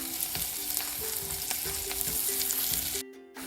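Shallots frying in a pan, an even crackling sizzle with a steady tone and rhythmic stirring taps, cut off briefly near the end before resuming more quietly.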